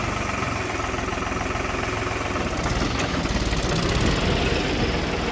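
A tractor engine runs steadily while pulling a 14-tine cultivator through a field, giving a continuous, close, loud idling drone with a slight knocking throb and no voices.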